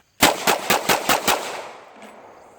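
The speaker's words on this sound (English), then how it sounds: "This is the John Wick gun." Six loud, close gunshots from a Walther PPQ M2 pistol fire in quick even succession, then ring out and fade into a short quiet tail.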